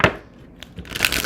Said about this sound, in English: I'm going to do a shuffle.